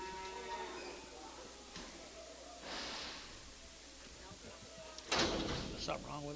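Cattle lowing at a calf and stocker auction, a few moderate moos with a louder burst near the end, set against steady sale-barn background noise and some talk.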